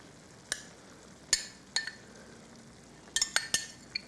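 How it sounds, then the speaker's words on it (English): A spoon stirs a 16-ounce can of chili into a hot casserole dish, giving several sharp metallic clinks and scrapes spaced irregularly over a soft background sizzle, with no talking. "Now let's go in here and just stir it in good, boy."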